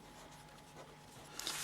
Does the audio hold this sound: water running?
no